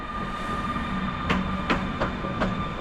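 A Griffin locomotive pulls away along a platform track at Wrocław Główny station, with a steady rumbling drone and a few evenly spaced rail-joint clacks as it rolls past.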